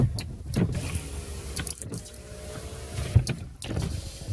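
Power windows on a used car roll down one after another, each a short whirring motor hum in a quiet cabin, with soft clunks between runs.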